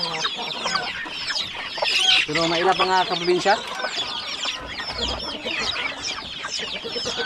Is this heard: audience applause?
no